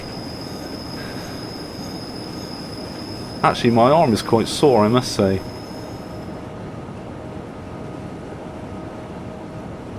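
A train on the Albula Line in Train Simulator 2017 rumbles steadily with faint high wheel-squeal tones throughout, while someone speaks briefly in the middle.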